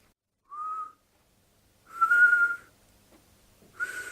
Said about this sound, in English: It was still whistling.